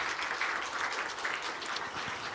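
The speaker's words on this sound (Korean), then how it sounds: "받을 때 박수 한번 해주세요." A church congregation at a Sunday morning worship service claps briefly, a soft, even patter of many hands heard at a moderate distance with no talk over it.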